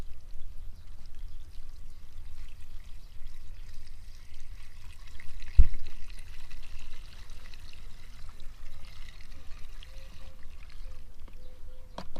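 Two-stroke fuel mixture poured through a funnel into the fuel tank of a Chinese-made brush cutter, a soft continuous trickle close by with a brief sharp knock midway, no talking.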